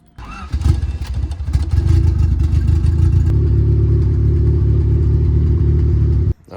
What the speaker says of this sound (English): let me go turn it on real quick. Hold on, just so you guys can see that the car turns on